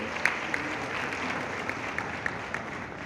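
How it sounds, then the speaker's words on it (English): Steady applause from a large crowd at a tourism conference in a hotel, honoring pageant queens, dense clapping throughout with a few sharper claps standing out. "Round of applause, ladies and gentlemen."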